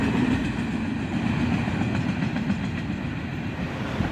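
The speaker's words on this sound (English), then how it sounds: "some CSX and old Conrail boxcar bring up the end of the train" A CSX freight train with old Conrail boxcars at the tail rolls past at dusk, a steady loud rumble with faint rhythmic clickety-clack of wheels over rail joints.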